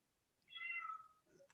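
A cat meows once in the background, a faint, drawn-out single call with no other sound around it.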